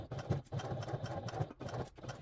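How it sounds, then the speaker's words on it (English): A sewing machine runs in short, rhythmic bursts as it stitches a strap keeper in place on a crossbody bag. The motor whirs up close and softly, with brief pauses between runs. "take it back to the sewing machine, and we're going to stitch the strap keeper into place"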